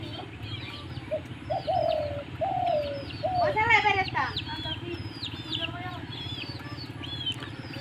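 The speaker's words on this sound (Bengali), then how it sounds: "তো এই হলো আমার লাল ঘুঘু।" A red turtle dove kept at home coos in soft repeated low notes, while other caged birds chirp and call nearby over a steady low background hum.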